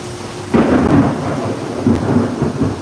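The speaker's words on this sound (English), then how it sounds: "it is storming here in southeast Texas, as you can hear" Thunderstorm outdoors in southeast Texas: a deep rolling rumble of thunder begins suddenly and lingers over steady rain, heard alone without voices.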